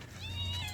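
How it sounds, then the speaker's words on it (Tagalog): A single short, faint cat meow with a rising and falling tone, heard alone over a low background hum. "Yung mga pusa, oh."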